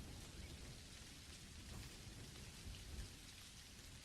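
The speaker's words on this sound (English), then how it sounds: "don't you just love that this storm just blew in?" Rain and a thunderstorm in the Dinkum video game: steady hissing rainfall on surfaces with low rolling thunder swelling underneath, quiet overall and continuous, with no talk.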